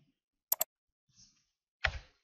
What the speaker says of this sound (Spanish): hago doble clic